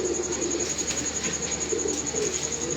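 Pigeons coo softly in low repeated bursts over a steady background hum, no voices present.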